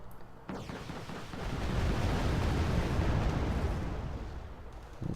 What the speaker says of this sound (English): GR7 is dropping bombs on them